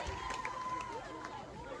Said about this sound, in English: this crowd is going insane